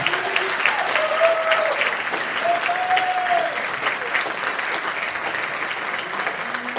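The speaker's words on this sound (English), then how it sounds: "Let's give these students a round of applause." Audience applause for students at a senior academic awards ceremony, a steady sustained wash of many hands clapping filling the hall without pause.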